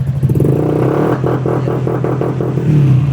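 A Honda Click V3 scooter that tops out at 30 km/h after a TPS replacement idles loudly and close, with a steady engine hum and a rapid pulsing throttle rev in the middle that sounds uneven.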